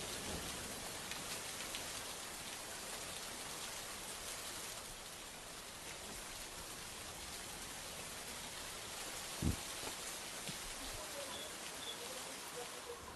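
Dense, steady monsoon downpour in Ratnagiri, Maharashtra, heavy rain hissing evenly throughout, with one brief thud partway through.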